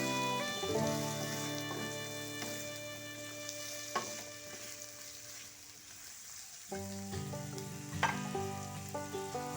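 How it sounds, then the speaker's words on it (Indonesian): Tempeh and vegetables stir-fry in a pan with a soft continuous sizzle and occasional stirring clicks and scrapes, while music plays over it. "Baru kemudian kita tambahkan tempenya. Kemudian aduk rata."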